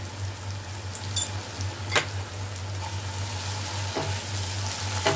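Ginger paste fries with half-browned onions in a pan, giving a steady close sizzle with occasional sharp pops and stirring scrapes.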